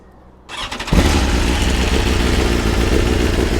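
A BMW S1000RR sport motorcycle engine cranks and fires up in neutral, then settles into a loud, steady, rough idle with a harsh mechanical rattle.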